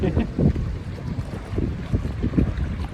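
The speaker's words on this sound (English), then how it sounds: "we are now boarding to the speedboat right now" Motor of a speedboat heading offshore, a steady low rumble with wind buffeting the microphone and water noise throughout, fairly close and continuous.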